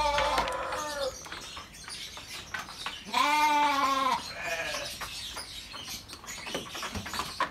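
Merino sheep bleat loudly in a livestock pen, one long wavering bleat standing out among several shorter calls from nearby animals.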